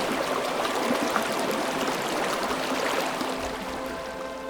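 A clear mountain trout creek flows steadily nearby, a constant broadband rush and babble of water with no pauses and no voices.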